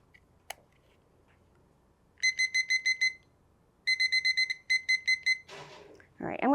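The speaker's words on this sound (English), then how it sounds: "So, set my timer here." Kitchen oven timer being set while baking buttered biscuits, giving two bursts of rapid, bright electronic beeps in quick clusters, near and clear, followed by a brief voice at the end.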